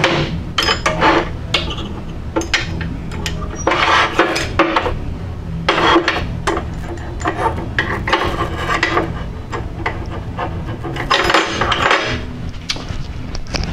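A metal ingot mold being opened after casting, with repeated scraping, rubbing and knocking of metal on metal in uneven bursts, close and moderately loud, with no voices.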